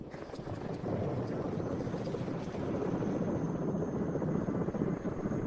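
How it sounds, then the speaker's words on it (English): A helicopter lifts off near Norilsk, its rotor and engine making a steady, loud, close droning roar that holds evenly throughout. "As our helicopter took off for the Dinka"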